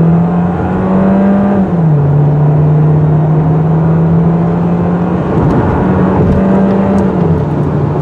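A 2019 Volkswagen Jetta with a turbocharged four-cylinder pulls hard through a 0 to 60 run, its engine drone climbing steadily through gear changes, loud and close with no talking.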